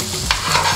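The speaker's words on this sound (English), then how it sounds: "I want to have some onions, so I'm gonna be frying them on the side." Onions fry beside a steak in a shared pan, giving a brief burst of loud, close hissing sizzle with a quick stirring scrape.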